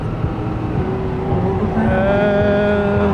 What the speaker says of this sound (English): I think that was a tractor puller right there.